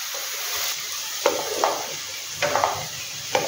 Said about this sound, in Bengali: তো আমি এই পেঁয়াজটাকে একটু ভালো করে ভেজে নিই।